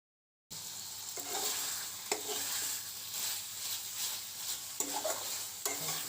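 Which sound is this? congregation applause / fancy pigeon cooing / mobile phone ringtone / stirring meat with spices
stirring meat with spices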